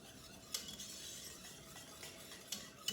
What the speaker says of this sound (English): We're going to whisk this